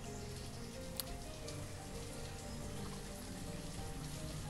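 Steady video game rain patters across a surface, a dense continuous hiss with a low rumble beneath, no voices, in Banished.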